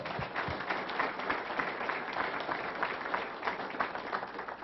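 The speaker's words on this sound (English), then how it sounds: "So I'd like to give Harry a round of applause." Audience applause fills a town hall meeting on the Second Amendment, a steady mass of clapping hands heard from a distance at modest volume, continuing evenly for several seconds.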